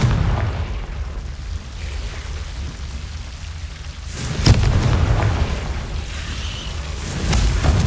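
A Confringo blasting curse explodes in Hogwarts Legacy, one loud boom bursting out of a rumbling background and then trailing off with a crackling rush.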